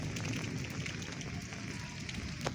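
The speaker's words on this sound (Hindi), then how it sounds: "बारिश आ रही है" Rain falls outdoors near rooftop solar panels, a broad steady rushing hiss with low rumbling texture and an occasional sharper patter, close and constant throughout, with no talk.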